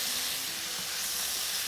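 Steady sizzling hiss of food sautéing in a hot pan while making chicken and minced-meat galash, continuous and close with no pauses.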